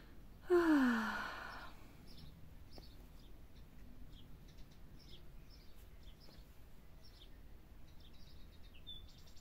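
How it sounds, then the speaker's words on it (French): Small birds sing faintly outdoors in short high chirps scattered across the stretch, distant and soft, after a loud breathy sigh near the start. "Tu entends comme les petits oiseaux chantent."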